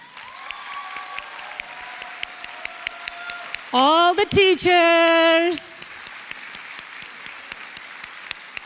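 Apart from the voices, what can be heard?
audience applause for the school staff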